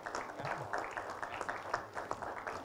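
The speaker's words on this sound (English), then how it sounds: "Ladies and gentlemen, a big round of applause." A corporate event audience applauds on stage cue, a faint, somewhat distant patter of many hands clapping steadily for a few seconds.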